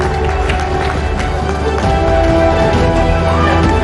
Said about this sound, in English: A huge round of applause for Manoj Bajpayee.